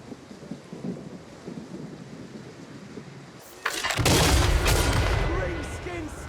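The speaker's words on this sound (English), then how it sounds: "unleashed the explosive power of his mortars" Mortar fire in the Total War: Warhammer III video game bursts in after a quiet battle-ambience stretch, with a heavy explosive boom followed by a loud, sustained rumbling roar.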